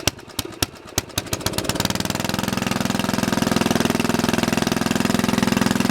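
A log splitter's small gas engine is pulled over with several sharp cranks, catches and then settles into a steady, loud, even idle that carries on alone.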